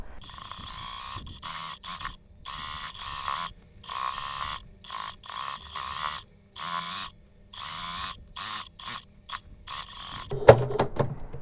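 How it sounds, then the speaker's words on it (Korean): A sewing machine topstitches the folded neckline of a toddler's dress, running in short close bursts that start and stop repeatedly, with quiet pauses between. "이제 이거를 바깥에서 상침으로 스티치 두듯이 눌러 박아 줄 거고요"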